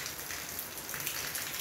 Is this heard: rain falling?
yes